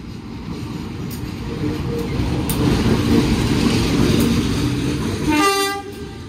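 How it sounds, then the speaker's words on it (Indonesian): An old electric locomotive built in 1982 rolls past during a centenary parade of electric commuter trains at Jakarta Kota, a loud close rumble and clatter of wheels, ending with a blast of the horn. "Oke, ini ada lokomotif melintas langsung."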